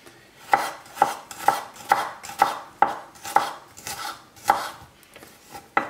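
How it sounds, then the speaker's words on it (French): An onion being chopped with a knife on a board, about a dozen crisp, evenly spaced chops at a steady rhythm, close and clear with no talking. "Et on va hacher l'oignon."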